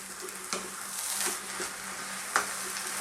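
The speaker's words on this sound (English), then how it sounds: "as you can hear, this is frying" Steady sizzling and crackling of tomatoes frying in a dry pan, with occasional small pops and clicks, fairly quiet and close, no talking.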